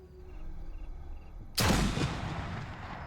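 A Springfield rifle fires once in the VR game Sniper Elite VR: a sudden loud crack with a long rumbling tail that fades slowly, after a quiet low ambient hum.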